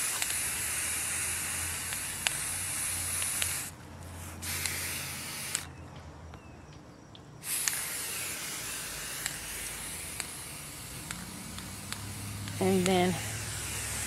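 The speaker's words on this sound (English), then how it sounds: "it's just basic spray painting" Bursts of spray can hissing, steady and close, broken by short pauses, with a brief voice speaking near the end.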